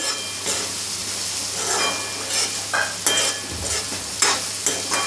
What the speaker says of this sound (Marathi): चांगली परतायची आपल्याला भेंडी।